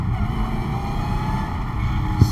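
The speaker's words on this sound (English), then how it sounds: "Spinning tires, no problem." Manual widebody Dodge Hellcat Charger with 850 horsepower spinning its tires, a loud, steady engine roar held at high revs throughout, close by and with no talk over it.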